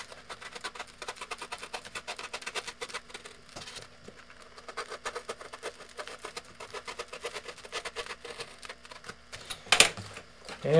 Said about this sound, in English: Cut down in the foam there, pull that out.